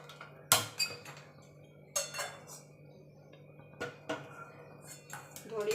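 A metal wok is set on a lit gas stove in a home kitchen, giving a few sharp isolated clanks and clinks of cookware against a low steady hum, close but fairly quiet.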